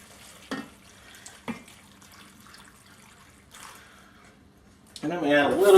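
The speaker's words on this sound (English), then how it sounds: "And I'm going to add a little bit more water." Water from a tap briefly splashes, then is poured into a crock pot slow cooker for a steak and cheese recipe, with a louder rushing pour at the end after scattered faint clinks.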